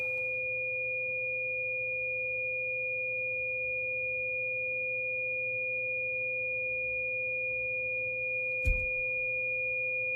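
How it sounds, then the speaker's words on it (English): Two-tone test signal on a President McKinley CB radio under alignment, an imperfect sine wave: steady continuous tones with a faint hum beneath, ending in a brief thump near the end. "do a two-tone. It's never a perfect sine wave, but that's fine."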